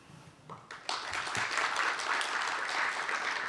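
An audience at a symposium on pandemic preparedness bursts into applause, starting with scattered claps and quickly swelling into steady, dense clapping that continues to the end.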